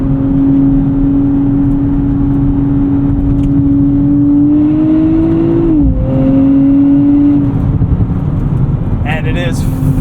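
A 2024 Nissan Z Nismo's engine drones steadily under load from inside the cabin, its pitch climbing then dropping sharply at an upshift before settling, with a brief mechanical chatter near the end.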